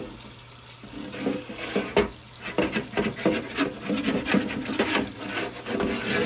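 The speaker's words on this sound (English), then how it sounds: "While the water's going, so you scrape all that good stuff off of there" Scraping turkey drippings off a roasting pan under running water, rough rasping strokes repeating irregularly, close and fairly loud, with water splashing beneath.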